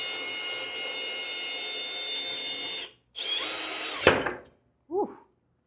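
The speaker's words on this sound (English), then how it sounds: "I also like to take breaks in between just so I don't like overheat the drill" A power drill bores a hole through a plant pot, whining steadily for a few seconds, pausing briefly, then grinding again before breaking through and stopping, followed by a short squeal.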